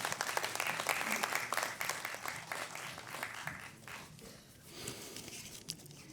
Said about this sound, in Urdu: آپ کی تالیوں کے ساتھ، زوردار تالیاں